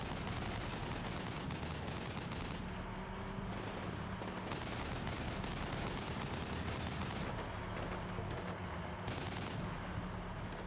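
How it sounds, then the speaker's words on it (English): Small arms and machine gun fire aimed from a building during an assault on a built-up area, a dense and continuous crackle of shots and bursts at a steady level with no voices. "These guys are taking some small arms from that building."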